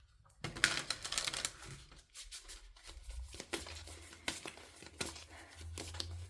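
Tarot cards being shuffled and drawn, soft papery riffles, flicks and slaps in uneven bursts, close up and fairly quiet.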